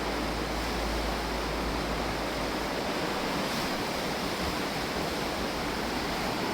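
River water rushing steadily into a hydroelectric intake beside a canal near Inverness, a dense, constant roar of turbulent flow that stays loud and unbroken throughout.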